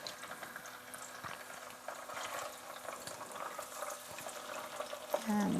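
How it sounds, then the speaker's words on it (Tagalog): Tilapia fish deep frying in a pan half filled with hot oil, a steady broadband sizzle and crackle throughout, with a louder burst of spattering near the end. "pinainit ko na yung ating oil kung saan natin i-deep fry yung ating fish"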